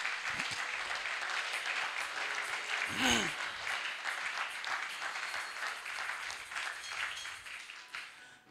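A church congregation at a Pentecost service claps and applauds steadily and fairly loudly throughout, with cheering voices mixed in.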